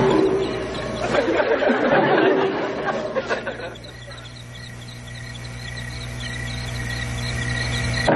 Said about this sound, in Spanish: Bueno, esos fueron grillos.